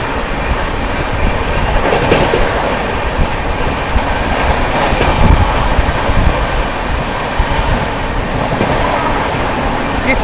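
The Bihar Sampark Kranti Express races through Etawah Junction, a loud, continuous roar of rolling wagons with rhythmic wheel clatter and rushing air, heard close and without pause.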